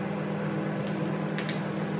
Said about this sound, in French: Désolée pour le bruit de micro-ondes.